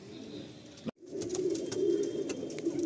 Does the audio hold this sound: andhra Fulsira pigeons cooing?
yes